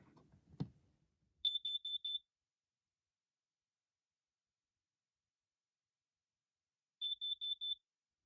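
A single click, then an RV's Safe-T-Alert propane and carbon monoxide detector, under alarm test, emits a rapid series of high-pitched beeps, falls silent for several seconds, and beeps again in another quick burst.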